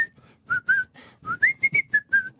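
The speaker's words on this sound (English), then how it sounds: "whistle this song." Someone whistles a short, lilting melody up close, with several clear sustained notes and little slides between them, and no talking.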